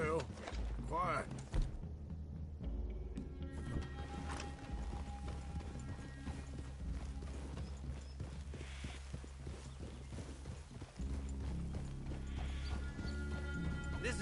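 Horses moving through a clearing in the western video game Red Dead Redemption 2: clip-clopping hooves and a whinny blend with game sounds, while characters talk over the top.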